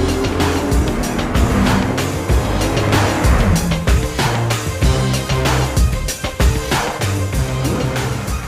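New Toyota Supra driven hard during final testing, with loud engine revs, sharp gear changes and tire squeal in quick bursts, close and dominant with no voices.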